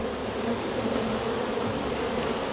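Honey bees buzz in a continuous, close drone around an opened hive. The hum is steady and even throughout, with no voices.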